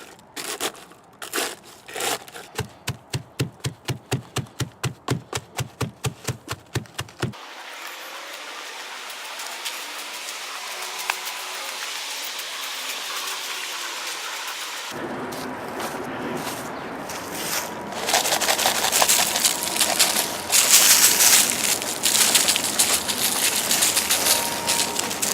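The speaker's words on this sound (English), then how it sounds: "Crush up the eggshells and then dump them as evenly as we can over the tops of the pile." Eggshells crushed by hand over a compost pile give a rapid, steady crackle of brittle shell breaking, followed by a hissing scatter and a louder rustling crunch as they are dumped across the top.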